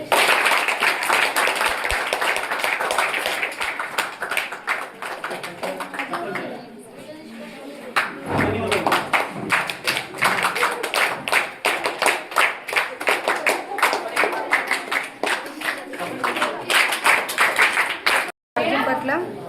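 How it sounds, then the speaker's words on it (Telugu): An audience at a high school's International Mother Language Day celebration claps steadily and loudly, with a brief lull midway before the applause picks up again, and voices talk under the clapping. "చప్పట్లు కొట్టాలి."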